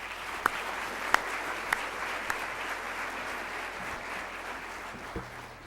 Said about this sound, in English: Please, let's give them a round of applause again.